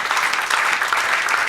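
A church congregation claps together in a continuous, dense burst of applause that is loud and steady throughout, with no speech over it.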